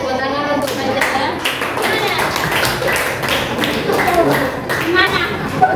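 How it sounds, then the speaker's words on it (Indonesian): A sixth-grade class claps for a classmate in a classroom, a dense stretch of many hands with some children's voices mixed in, steady and fairly loud throughout. "tepuk tangan untuk Fajrian"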